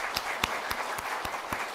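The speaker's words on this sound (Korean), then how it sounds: "같이 박수를 드리겠습니다." An assembly audience at a church women's association general meeting claps together in a steady rhythmic beat, roughly four claps per second, over a soft background wash of hands.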